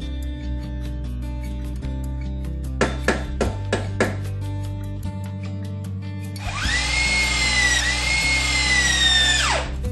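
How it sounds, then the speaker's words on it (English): Short clicks and taps give way to a loud power drill fastening water heater straps, whirring for several seconds, rising and holding its pitch before stopping abruptly. "Attach long straps on the other side of the water heater with a wrench or drill"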